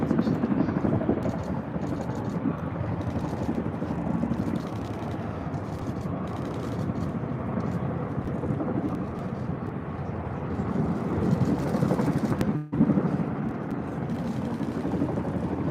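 Chinook helicopters of the Hellenic Air Force pass overhead in a Greek Independence Day flypast at the Acropolis, a loud, sustained rotor drone that holds steady for the full stretch before a brief dip near the end.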